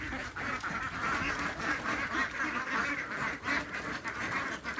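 Grown ducks, raised from ducklings, quack continuously in a loud overlapping chorus close by, with steady rhythmic calls throughout.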